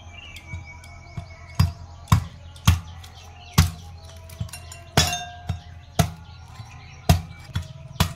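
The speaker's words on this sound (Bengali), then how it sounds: "আমি এরপর ডাবটি কেটে নেব" A green coconut is cut open with sharp, irregularly spaced chopping strikes, about a dozen loud close knocks with brief ringing tails and quiet gaps between them.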